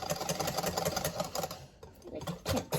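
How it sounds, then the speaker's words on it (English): A whisk beats oil and egg together in a bowl for a Swiss roll cake batter, making a fast, steady, close-up rhythmic clatter that runs almost without a break. "Get the whisk and whisk these two together."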